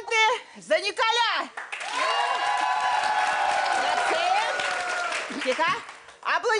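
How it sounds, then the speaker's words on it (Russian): Studio audience at a Russian matchmaking TV show breaks into loud, sustained applause and cheering with whoops, starting after a host's spoken cue and fading as talk resumes at the end. "значит, аплодисменты за Николя"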